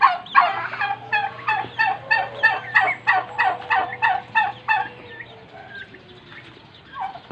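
A turkey on a mini farm gobbles in a rapid run of about a dozen rattling pulses, close and loud, over a low steady hum, then falls quiet with only faint background noise.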